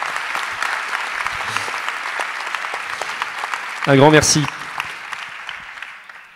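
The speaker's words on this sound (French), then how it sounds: "On peut l'applaudir, les applaudir également," An audience at a round-table discussion applauds the panel speakers. Steady, moderate clapping runs under a short spoken thank-you, which swells briefly in the middle.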